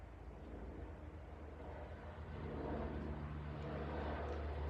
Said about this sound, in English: Sorry about the helicopter, it seems to be very busy today.